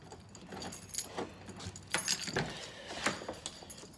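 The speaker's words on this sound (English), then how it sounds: "let me get my keys" Keys jangle and clink in a quick series of bright metallic bursts, close and fairly loud, with faint road or car background noise and no talking.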